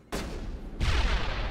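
A grenade goes off in the video game Mass Effect during a firefight with bunkered-down thugs: a sharp burst, then a second, heavier boom that rolls on loud and close.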